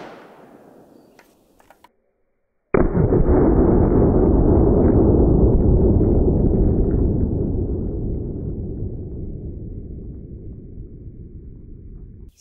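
A 7.62x39 rifle fires one very loud, sudden shot at homemade body armor, followed by a long roaring tail that fades slowly over several seconds after a brief silence and a few small clicks.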